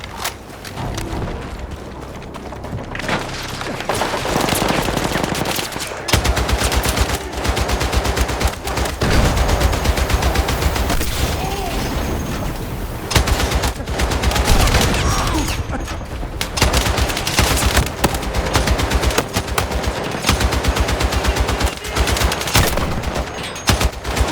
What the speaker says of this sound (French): Installe-toi à la mitrailleuse.